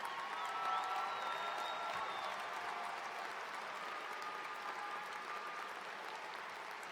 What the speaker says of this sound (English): let's acknowledge our online students who are participating in person or afar with a round of applause.